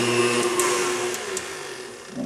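An electric mixer runs at a higher speed through bread dough, giving a steady motor whine and hum. A couple of faint clicks sound near the start, and the tone dips slightly toward the end.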